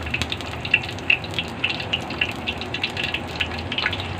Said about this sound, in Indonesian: Untuk menggoreng cabenya itu posisinya seperti ini ya, dibalik, jadi daging ikannya ada di bawah supaya dia nggak copot pas digoreng